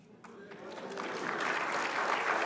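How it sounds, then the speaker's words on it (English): Audience applause at a library and museum event swells from scattered claps into steady, fuller clapping, moderately distant in an indoor hall. "That's worthy of applause."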